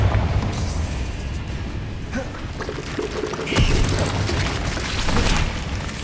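A Confringo spell explosion in the video game Hogwarts Legacy sounds as deep booming blasts and rushing bursts, repeated through a loud, dense stretch of spell combat with little talk.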